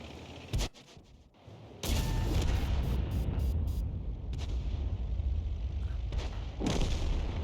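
In a tank video game battle, 90mm guns on a Jackson and a Pershing fire heavy booming shots: a sharp early blast, then a loud sustained roar with further cracks and impacts, close and dense, with no talk over it.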